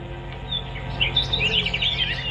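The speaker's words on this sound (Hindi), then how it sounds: "सुंदर आवाज, चिड़ियों का एक अलग ही आनंद उनको मिलने लगा" Several birds chirp and tweet in quick, overlapping bursts, bright and close, over a low constant background drone.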